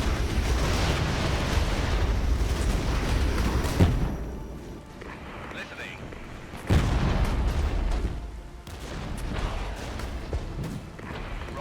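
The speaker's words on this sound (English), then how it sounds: "Time for the rockets from the Harriers." Harrier jet rocket strikes in the Regiments war strategy game, with a dense barrage of booming explosions and rumbling blasts, followed by scattered impacts and a few sharper bursts.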